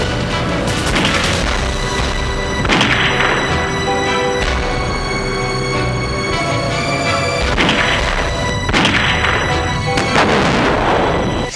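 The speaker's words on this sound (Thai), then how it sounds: "ระเบิดเรือนี่นะคะเห็นแป๊บเดียวแบบนี้เนี่ย" Staged boat explosion for a Thai TV drama: dense, sustained roaring blasts with repeated heavy booms and bursts, loud and continuous throughout with no voices.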